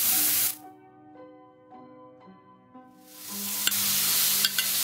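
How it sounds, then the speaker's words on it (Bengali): Chicken pieces go into a pan of frying onion and ginger-garlic paste, giving a loud hissing sizzle at first. Music carries a quiet middle stretch, then the sizzle returns with sharp clinks of stirring. "এটা বেশ ভাজা ভাজা হয়ে এসছে, এর মধ্যে আমি চিকেনটা দিয়ে দিচ্ছি।"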